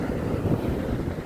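Steady, rumbling wind buffets the microphone with a broad, low roar and no other sounds.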